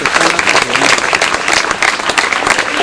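Dense, steady applause from an audience at a college stage function, many hands clapping continuously and evenly from start to finish with no voice over it.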